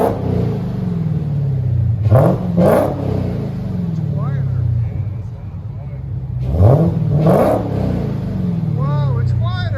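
A 2018 Dodge Demon with a 6.2L supercharged HEMI V8 and Kooks cat-back dual exhaust revs twice, pauses, then revs twice more, loud and near, over a deep idle rumble with people talking.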